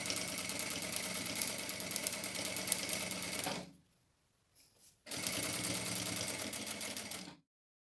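A sewing machine stitches an EVA scrap bag, running in a fast, even mechanical chatter close by, stopping for about a second and a half with faint handling noise, then resuming before cutting off.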